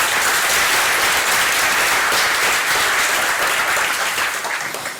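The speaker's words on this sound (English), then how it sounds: "Please give him an applause." A conference audience gives loud, dense applause to welcome the keynote speaker of the closing session at EuroBSDCon 2015, a sustained wash of many hands clapping that tapers slightly at the end.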